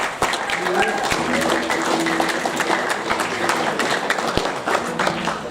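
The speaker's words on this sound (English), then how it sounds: "big, huge final round of applause" Students at a school's final senior assembly applaud loudly, a dense wash of clapping with occasional sharp knocks and people talking underneath.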